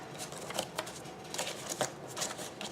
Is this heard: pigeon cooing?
no